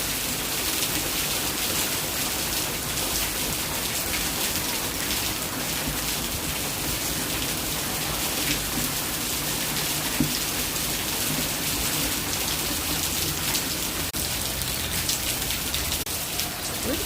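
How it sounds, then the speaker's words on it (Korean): Heavy rain pours steadily onto a yard, forming a dense, continuous hiss of drops on surfaces that stays loud and unbroken throughout, with no voices. "비 오는 소리."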